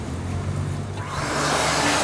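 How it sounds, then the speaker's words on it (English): Blowing air from a small hand dryer in a public restroom in Oregon City, Oregon: a faint hum at first, then a loud, steady whoosh that swells and holds to the end, with no talking. "And a little dryer."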